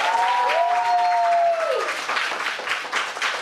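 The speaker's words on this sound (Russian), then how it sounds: "Аплодисменты нашим игрокам." A studio audience at a TV quiz show applauds the players, with a crowd clapping throughout, while a tonal musical sweep slides through the first half and then drops away.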